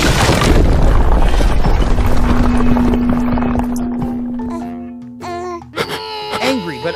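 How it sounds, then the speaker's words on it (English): An animated bomb explodes and destroys three houses in a cartoon Spider-Man scene: a loud broadband blast at the start rumbles and slowly fades, followed by a sustained tone and wailing, voice-like sounds near the end. "The bomb was dropped and exploded,"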